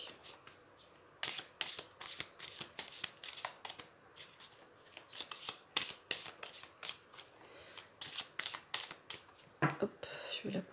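A deck of tarot cards is shuffled and cut by hand in a steady run of crisp, papery riffles and flicks. The bursts come close together for the whole stretch, near and fairly loud.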